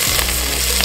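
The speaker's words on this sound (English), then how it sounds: "So sauteing the veggies now." Vegetables and herbs sautéing over an open fireside flame for a tomato choka, a loud, dense, continuous sizzle close up, with no voices.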